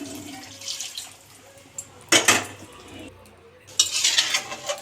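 Hot water is poured into a pot of mutton curry, giving a loud, splashing rush that comes in two bursts over a faint kitchen background.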